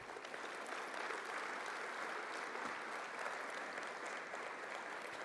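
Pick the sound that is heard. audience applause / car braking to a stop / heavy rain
audience applause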